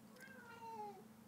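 A single cat gives one soft, drawn-out meow with a falling pitch, faint and fairly close, in quiet surroundings with no talking.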